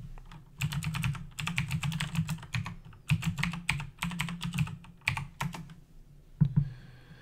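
Someone types login credentials on a computer keyboard, a steady run of close, crisp key clicks in quick bursts with brief pauses, alone without talk.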